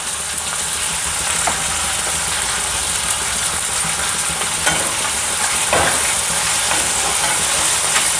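Onions fry in a pan with salt, a steady loud sizzle throughout with scraping stirs at intervals, while a traditional Ukadpendi dish is cooked.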